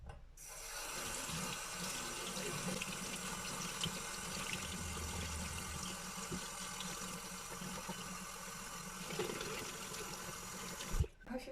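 A Dyson V12 vacuum filter is washed under a running tap at a sink, with a steady, full stream of water splashing throughout, starting and stopping abruptly, and no talking.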